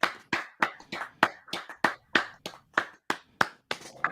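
A man stands and applauds alone, roughly a dozen sharp, evenly spaced hand claps ringing out close and clear with no talk over them.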